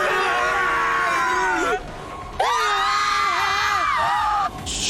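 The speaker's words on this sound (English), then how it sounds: "Shrill screams burst out." Shrill, sustained screams rise and waver in a horror visual novel game, two long bursts of several voices shrieking together with a short gap between them.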